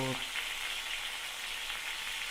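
Pointed gourd (potol) sizzling in hot oil in a pan, an even continuous crackling hiss at moderate closeness, with a tiny vocal snippet at the very start.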